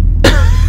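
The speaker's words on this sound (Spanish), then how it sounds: "Acabo de beber agua y ya estoy tosiendo otra vez." A single sharp cough bursts out after a moment of silence and is followed by low background hum, close to the microphone.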